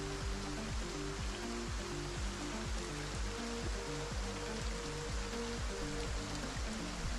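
Steady rain in Project Zomboid pours as a dense, even wash of hiss, with a rhythmic low thudding pattern underneath and no voices.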